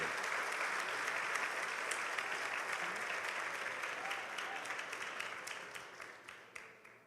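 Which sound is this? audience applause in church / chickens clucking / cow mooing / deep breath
audience applause in church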